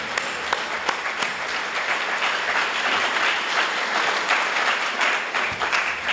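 Audience applause at a Lincoln-Reagan political dinner in Calloway County, Kentucky: a sustained, even wash of clapping from a room full of diners, with a few sharper individual claps standing out near the start.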